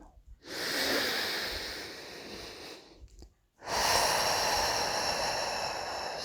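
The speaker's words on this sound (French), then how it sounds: "Respirez profondément." Deep, slow breathing close to the microphone during a calm guided relaxation session: a long, airy inhale-exhale, a short pause, then another strong, breathy draw of air, with no talk.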